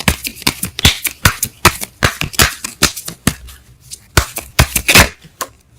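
Tarot cards are shuffled and riffled close by, a dense run of crisp, rapid paper flicks and snaps that pauses once briefly before another burst of shuffling.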